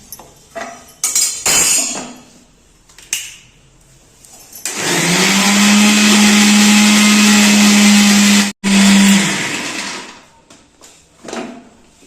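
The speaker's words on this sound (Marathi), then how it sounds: "आता दळून घेऊ आपण." Mixer grinder pulverising fresh Godavari fish, a loud steady whirring drone lasting several seconds with a brief cut-out, preceded and followed by clinks and knocks of the jar and utensils.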